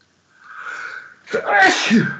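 A single loud sneeze close by, with a brief intake of breath just before it and a sharp burst of air.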